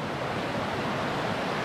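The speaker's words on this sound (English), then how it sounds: "we've actually made it to the stream or river, the pretty river that's coming through here" The Pretty River flows along a hiking trail, a steady broadband rush of moving water that stays constant and fairly close with no voices or other sounds over it.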